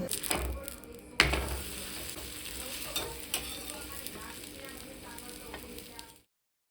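Food frying and sizzling steadily in a pan on a home stove, a continuous close crackle with a few sharper stirring clatters throughout.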